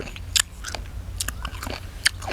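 Close, crisp crunching and chewing of a Lao-style green mango salad made with small mango and fermented fish sauce, with a few sharp bites standing out over softer mouth noises and no talk.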